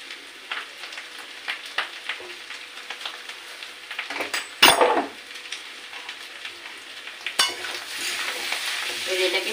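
A spoon stirs through a frying spice mixture of chilli powder, turmeric and salt, giving close, steady sizzling with scraping stirs against the pan and one louder clatter midway.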